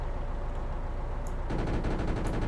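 Tank guns fire in Arms Trade Tycoon Tanks, a faint low rumble giving way to a rapid rattling burst of repeated shots midway, with no talking.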